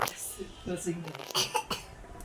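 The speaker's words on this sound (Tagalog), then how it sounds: "Ayan siya, umuubo siya." A few short, muffled coughs break through amid quiet, faint talking and background noise.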